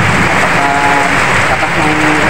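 Heavy rain pouring down during a thunderstorm, a loud, dense, continuous hiss with a low rumble underneath, no distinct thunderclap standing out.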